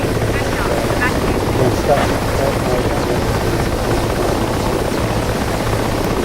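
Mi-8 helicopter in the DCS World flight simulator, rotor thumping and turbine engine droning steadily and loud throughout, with a voice talking over it.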